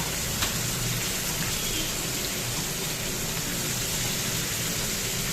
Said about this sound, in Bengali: এঁচড়টা ভাজতে দিয়ে দিলাম